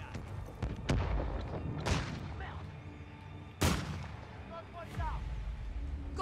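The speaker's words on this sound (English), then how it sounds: "Hostile remote turret is active." Several heavy gunshots from a remote turret in Modern Warfare III multiplayer, spaced a second or two apart with boomy tails, under a spoken voice and game ambience.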